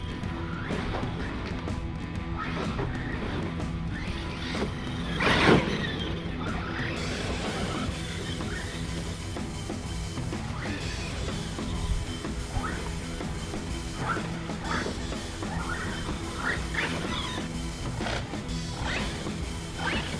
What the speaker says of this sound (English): I definitely hear that drive line struggling with this thing